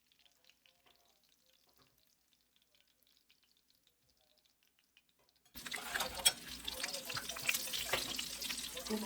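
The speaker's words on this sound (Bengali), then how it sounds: "এইভাবে আমি সবগুলো ভেজে নেব" Dipped, coated pieces frying in hot oil: after several seconds of near silence, a close, fairly loud crackling sizzle starts abruptly and runs steadily to the end.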